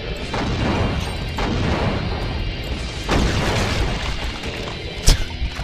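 Rocket explosions from the shooter game Doom TNT: Evilution with a brutal mod, a dense run of loud blasts and crashes, with strong bursts near the start, around the three-second mark and a sharp, loud hit near the end.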